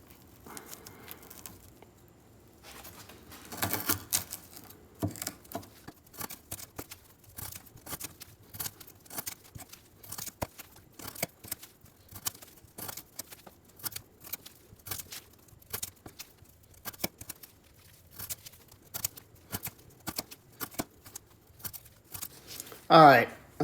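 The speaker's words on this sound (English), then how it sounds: "now we're gonna cut up some of this 1/2 inch twisted sisal rope" A Katsu G10/D2 folding knife slices repeatedly through half-inch twisted sisal rope, a long series of sharp, close cutting snaps and rasps in irregular rhythm, about twenty cuts, moderately loud over a quiet background.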